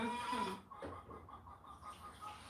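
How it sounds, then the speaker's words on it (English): Chickens cluck loudly in a rapid, agitated series of short calls in a farmyard, somewhat distant and unaccompanied by speech. "chicken's going crazy"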